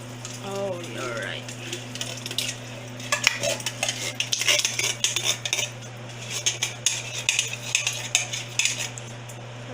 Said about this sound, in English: So now it's really boiling. So we will stir it.